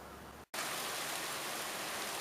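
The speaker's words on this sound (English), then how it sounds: "it has started to rain on me" Rain falls steadily outdoors over a parking-lot dig site as an even, dense hiss. It starts after a brief gap and stays constant to the end, with no voices.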